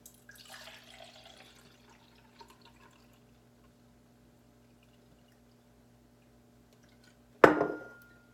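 Liquid poured into a cup during food preparation in a vision rehabilitation lesson, heard as a short, loud splashing pour near the end after a quiet stretch with faint earlier water sounds.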